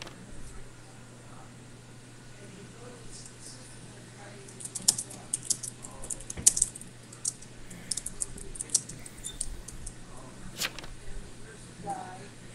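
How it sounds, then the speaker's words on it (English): Quiet typing on a computer keyboard during an online game session, scattered soft key clicks picking up in the second half over a low steady electrical hum. "I can hear you typing."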